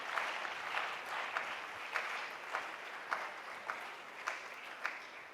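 Congregation applauding in a church, a dense, even wash of clapping with regular accented beats in rhythm, moderately distant and continuous, faint voices barely present underneath.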